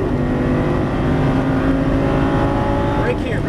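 A Lamborghini Superleggera on a Las Vegas racetrack at full throttle, its engine a loud, continuous roar from inside the car that climbs in pitch near the end as it accelerates.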